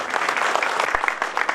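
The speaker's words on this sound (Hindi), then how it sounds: "प्लीज जोरदार ताली से स्वागत करिए" Audience applause welcoming a guest of honour, a sub-divisional collector, at an Oswal Holi festival stage event in Sujangarh: steady, dense clapping from a crowd, loud and continuous throughout with no pauses.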